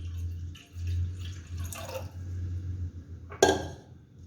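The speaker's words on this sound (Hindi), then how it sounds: "कहवे के लिए मैंने पतीला लिया है। इसके अंदर मैं 2 कप पानी ऐड करूंगी।" Two cups of water go into a cooking pot for Kashmiri kahwa tea, a quiet trickle and drip with a couple of sharp metallic clinks from the pot, close by and with no voices.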